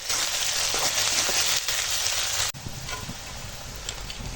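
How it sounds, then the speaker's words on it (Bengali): Onion, green chili and bay leaf frying together in a pan for a goat meat curry, a steady loud sizzle with a brief dip midway, with no talking. "পেঁয়াজ কাঁচা লঙ্কা একসঙ্গে ভালো করে ভেজে নেব"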